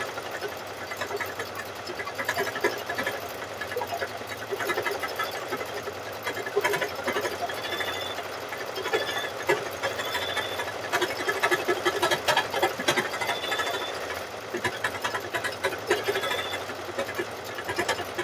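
An embroidery machine stitches continuously, a close, busy mechanical whirring with rapid rhythmic needle strikes that vary slightly in intensity throughout, with no talking.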